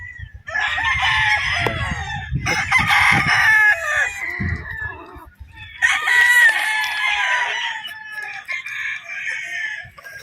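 A Gilmore gamefowl stag at a game farm, close and loud, crowing in several long calls mixed with clucks and a few other bird sounds.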